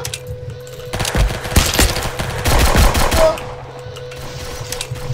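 Automatic gunfire rattles in a Roblox robbery game, a dense burst of rapid shots lasting a couple of seconds before fading to quiet game ambience.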